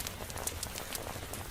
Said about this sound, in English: but the rain persists